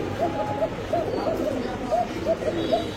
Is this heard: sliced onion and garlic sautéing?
no